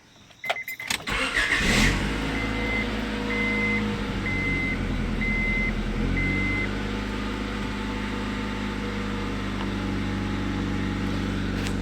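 A Honda Accord engine cranks and catches with a rough start after a distributor replacement, then settles into a steady idle while a series of evenly spaced beeps sound over it.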